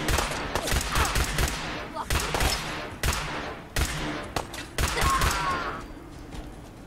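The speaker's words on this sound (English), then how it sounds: "Where are they shooting at me from?" Fallout 4 turrets open fire in repeated rapid bursts, loud and close, with brief pauses between volleys and a fading tail after each burst.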